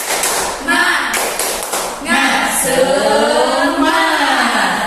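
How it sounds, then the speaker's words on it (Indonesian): A class seated in a peer-teaching session performs a rhythmic spirit clap, with bursts of hand claps and taps in patterned groups, close and loud, mixed with voices chanting and speaking over the clapping. "Sekarang kita tepuk dulu semangat"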